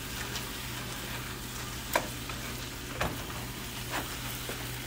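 Bell peppers cooking in a pan, a soft steady sizzle with a low hum beneath and a few faint clicks or taps.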